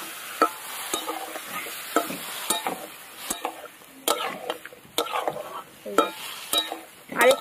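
A spatula scrapes and taps rhythmically against a pan while fish curry with mustard-poppy and green chilli paste is stirred, a string of close, sharp strokes over a faint simmering sizzle.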